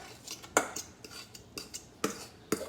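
Pecan crust pressed into the bottom of a cheesecake pan for an Instant Pot keto cheesecake, heard as several light metallic clinks and taps up close.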